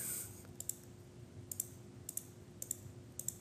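A computer mouse clicks quietly and close by, with several pairs of quick double clicks spaced evenly over a few seconds against a faint low hum, and no voices.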